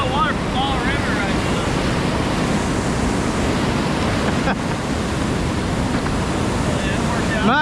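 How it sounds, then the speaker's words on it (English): Rushing whitewater of the Tellico River rapids around ledges and eddies, a dense continuous roar of churning water, loud and close with wind buffeting the microphone. "we're getting a lot of water from Tellico River"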